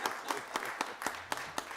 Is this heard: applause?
yes